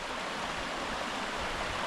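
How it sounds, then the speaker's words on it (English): A swollen, fast-running creek rushes and churns steadily, a dense close wash of water with no breaks and no voices. "it's still kind of a raging river and quite deep for a creek"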